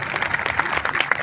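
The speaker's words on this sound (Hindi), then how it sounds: "एक बार मातृशक्ति के नाम से और ताली बजाइए जोर से।" Applause from a rally audience in Baijnath, India, with quick, uneven handclaps from many people in a short, lively burst at moderate volume.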